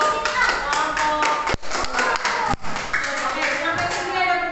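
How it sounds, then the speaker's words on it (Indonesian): Students in a classroom clap for a presenting group, a dense burst of close hand claps with two short pauses, continuing for a few seconds. "terima kasih tepuk tangan untuk kelompok"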